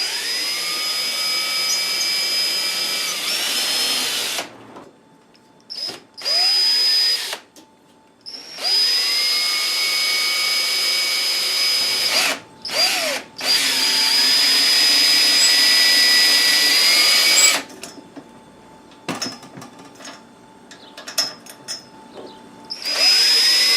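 A power drill backs the screws out of the legs of a Kisco fan in repeated bursts of high whirring. Each burst spins up and winds down, with quiet pauses and clicks between them, and the drill stays close throughout.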